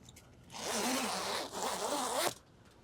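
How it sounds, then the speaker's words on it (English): The fill panel of a CleverShade 360° Ultra-Lite awning is unzipped in one smooth, close zipper pull lasting under two seconds, with a brief hitch partway through. "you just unzip the fill panel"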